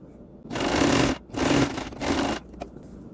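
Sewing machine stitching joined pieces of leftover fabric for a kids' kurti, three loud buzzing runs of stitching separated by short pauses, close by with no talking.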